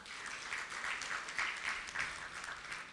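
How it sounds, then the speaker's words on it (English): An audience claps for an absent award winner at an awards event, a soft, steady wash of applause from a crowd, fairly distant and faint. "So let's just clap for him."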